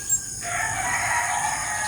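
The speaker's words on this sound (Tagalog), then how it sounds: "Nagigising na po yung mga manok." A rooster crows early on a cool morning, one sustained, fairly near cock-a-doodle-doo held over faint background hum.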